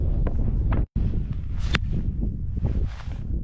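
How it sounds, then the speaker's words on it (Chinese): Strong winter wind in Xinjiang's desert buffets the microphone in a constant loud roar with gusty rumbles, broken by a brief cut-out and a few scuffs and rustles close by. "今天风很大，无人机飞不了"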